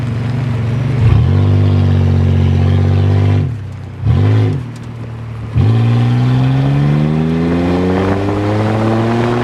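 A car engine revs hard in repeated bursts, dropping briefly between pulls, as the driver tries for a burnout; loud, close, steady engine drone with rising pitch.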